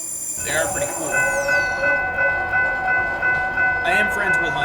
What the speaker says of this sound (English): I'm gonna go watch this blue line train